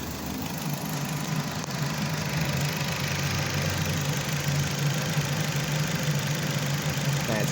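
A Chrysler 200 car engine idles steadily after running for about ten minutes, a continuous close low rumble with a light mechanical ticking throughout and no talking.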